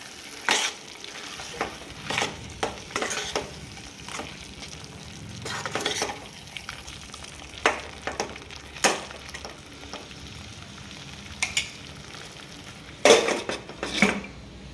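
A pickle mixture of spices and tomato is stirred in a pan over a faint sizzle, with a run of spoon scrapes and taps against metal and a clatter near the end as a lid goes on.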